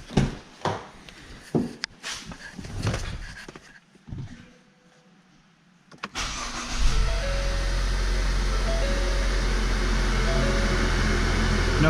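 A 2014 Ford Fusion, recently repaired after a faulty PCM caused a no-start, cranks and fires up, then settles into a steady, loud idle that continues unbroken after some earlier interior clicks and door thuds.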